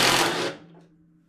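A single sharp, loud burst from a power tool loosens a bolt on a Toro 928 snow blower while fitting skid shoes, then a quieter mechanical hum winds down after it.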